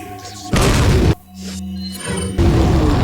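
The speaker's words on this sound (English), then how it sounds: "Toss the frag." A frag grenade blasts in Resident Evil 4 as a loud, sudden explosion with a shattering crash, set among game sound effects, musical tones and a second burst of impact noise.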